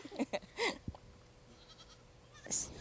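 Several goats, including young kids, bleat in short wavering calls at a wildlife farm, a few near bursts spaced out with quieter gaps between and a higher cry near the end.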